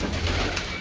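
Pigeons coo in a soft, throaty burst, close by and steady for under a second, with no voices over it.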